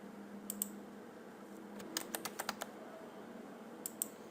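Bursts of keystrokes on a computer keyboard, a couple of quick taps, then a rapid cluster of clicks and two more taps later, crisp and close over a faint steady hum.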